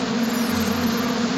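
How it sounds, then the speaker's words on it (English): Cartoon bees buzzing in a steady, continuous low drone that holds even and close throughout the short moment, with no talk over it. "The bees think you look like one of them, Yellow."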